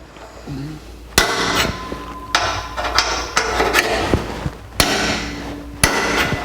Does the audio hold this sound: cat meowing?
no